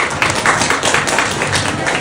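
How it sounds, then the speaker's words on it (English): Loud, dense applause from an audience for panelists at a fashion innovation event, many hands clapping continuously and evenly throughout, with no talk over it. "So huge applause to them."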